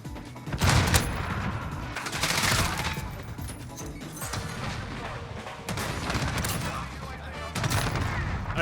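Sniper rifle shots ring out in Modern Warfare gameplay, several sharp loud bursts spaced a couple of seconds apart amid other gunfire and game noise.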